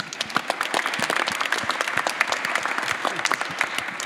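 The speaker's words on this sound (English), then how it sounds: "we really need a very special applause to Steffi" An audience at a Serpentine talk applauds Steffi with dense, lively clapping from many hands, sustained and close for the whole stretch.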